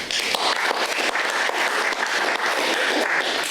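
Warm, continuous applause from an audience after a poetry reading, a full wash of many hands clapping at an even, fairly loud level throughout, with no speech.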